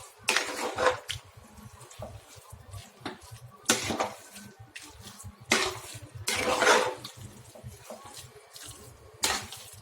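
Curd rice being mixed in a bowl: irregular scraping and clinking bursts, close and fairly loud, with quieter rustling between them and no talking.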